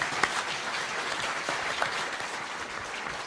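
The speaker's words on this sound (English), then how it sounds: "Please give them an applause." Audience at a Kelowna mayoral candidates' debate applauds steadily, a dense even wash of clapping filling the whole stretch with a few sharper claps standing out.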